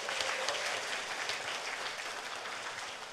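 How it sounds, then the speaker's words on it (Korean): An audience claps at a cryptocurrency event in Korea, a thick, steady wash of applause that holds evenly, then thins slightly toward the end. "박수 한번 주세요"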